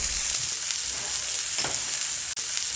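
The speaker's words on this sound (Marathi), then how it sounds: "आता लसूण कांदा चांगला भाजून झालेला आहे।" Garlic and onion fry in a pan for a Marathi-style cauliflower curry, giving a steady, close, broadband sizzle with a faint scrape or two and no talking.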